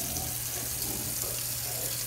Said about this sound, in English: Like, the water's running and everything.